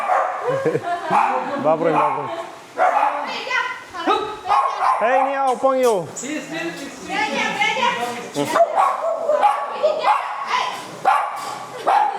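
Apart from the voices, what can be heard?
dogs barking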